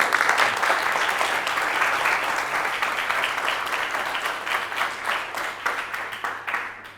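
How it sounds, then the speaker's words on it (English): Conference audience at a Ruby unconference talk breaks into sustained applause, a dense, even wash of many hands clapping close by that gradually thins and fades toward the end. "Again, round of applause."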